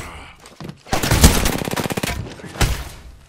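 Automatic gunfire in the Apex Legends video game: a loud, close burst of rapid shots opens the clip and runs for about two seconds, and a second short volley follows near the end.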